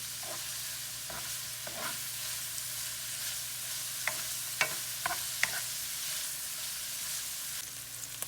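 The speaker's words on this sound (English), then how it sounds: "I normally saute them till they turn brown." Vegetables sautéing in a pan over medium heat for Mexican chile rellenos, with a steady low sizzle throughout, a few faint utensil clinks and stirring scrapes, and no talking.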